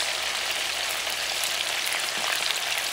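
Continuous loud sizzling of Puerto Rican carne frita (pork) frying in hot oil, a dense crackling hiss heard up close with no voices.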